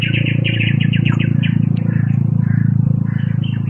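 A crow calls repeatedly in short chirping bursts over a steady low engine hum, fairly close and clear.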